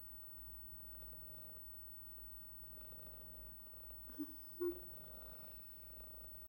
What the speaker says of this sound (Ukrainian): Чуєте, як мурчить?